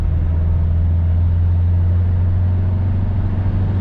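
A Ford Tourneo Connect with a 1.8 diesel engine holds a steady, loud, deep drone from inside the vehicle, a constant low hum with no clear rise in revs.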